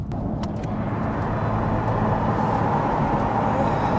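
A car engine runs steadily at moderate volume, a continuous low rumble with faint road noise and no talking.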